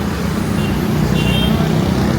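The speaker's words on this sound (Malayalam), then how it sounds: "ട്രാഫിക് പേടിയാണ്" Dense road traffic in Kochi, a loud continuous rumble of cars, buses and trucks close by with a brief horn toot partway through.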